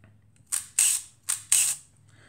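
An Otto Berning Robot II camera fires its shutter mechanism twice at its fastest 1/500 speed, each firing a sharp double mechanical clack and whir, close and loud in a quiet room.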